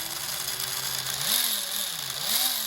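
XTM Baja Bullet RC truck drivetrain with brass pinion gears, a close, high whining electric motor and gear buzz whose pitch rises and falls in smooth sweeps as the throttle changes.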